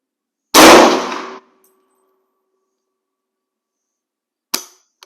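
A US M1 Carbine fires a sharp shot that rings off a steel target with a lingering metallic clang, followed a few seconds later by a second, shorter crack.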